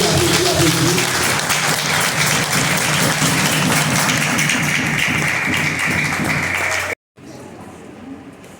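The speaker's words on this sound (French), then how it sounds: "l'Assemblée est priée de se mettre debout et applaudir chaudement son arrivée" A church congregation stands and applauds warmly, a dense, steady wash of clapping from many hands filling the space for about seven seconds before cutting off abruptly into quieter room sound.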